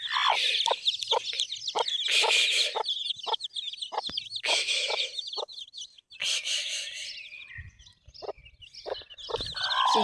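A rooster and hens cluck and cackle in a new coop, with busy overlapping bursts of calls at close range and short quiet gaps between them.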